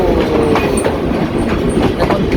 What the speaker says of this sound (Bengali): এখন সুন্দরবন এক্সপ্রেস তার পুরাতন সেকশনে আছে।